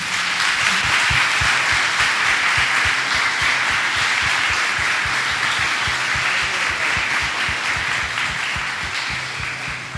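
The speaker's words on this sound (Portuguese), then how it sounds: "Você pode aplaudir, igreja?" A church congregation gives sustained, loud applause that fills the room evenly with dense clapping from many hands throughout, with no talking over it.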